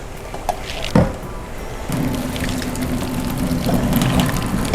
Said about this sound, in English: I'm gonna drain a little bit of the water out.